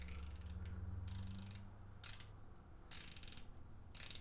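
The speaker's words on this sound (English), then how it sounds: "So the bezel 120 unidirectional. Listen to the click, guys." Unidirectional 120-click bezel on a Deep Blue Blutech Abyss 500 dive watch, turned in several bursts of rapid close ratcheting clicks separated by short pauses, over a low steady hum.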